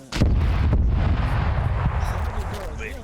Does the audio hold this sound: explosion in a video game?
yes